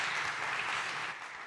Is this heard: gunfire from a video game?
no